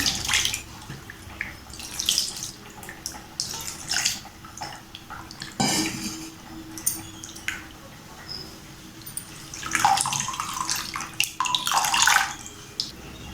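Water is poured to rinse lemon-curdled homemade paneer in a kitchen. Splashing bursts come and go at close range, with louder gushes near the middle and end.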